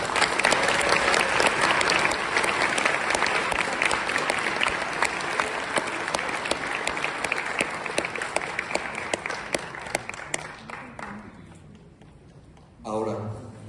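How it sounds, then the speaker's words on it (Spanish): An audience at a debate tournament final gives dense, sustained applause that gradually tapers off, followed by a brief voice at the very end. "Les pedimos un fuerte aplauso."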